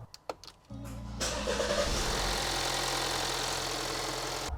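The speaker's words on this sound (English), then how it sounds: "The last thing I got to do is to run the engine, make sure that there are no coolant leaks" Alfa Romeo Stelvio engine cranks after a few clicks, catches and settles into a steady, loud idle that runs on without pause.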